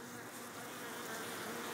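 Honeybees swarm out of an opened hive as a frame is lifted from the middle of the brood nest, giving a dense, steady, close buzzing drone that holds evenly throughout with no voices.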